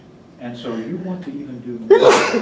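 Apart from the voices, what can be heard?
sneeze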